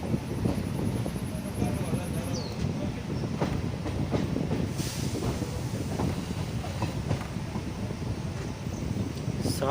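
A Mailani–Pilibhit passenger train rolls slowly through a forest reserve stretch, a steady low rumble of the carriages with wind buffeting the microphone.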